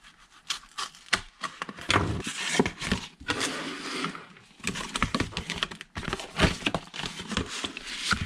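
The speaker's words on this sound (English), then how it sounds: "I'm going to open the little folder" Small cardboard folder from Cricut Joy packaging being opened, a close run of light crinkles, taps and paper rustles in quick irregular bursts with brief pauses.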